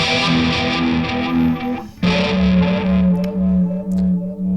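Electric guitar through a Helix phaser TonePrint with the mix turned all the way up, two loud, slightly distorted strummed chords with a swirling, sweeping tone, the second struck about halfway through and left ringing.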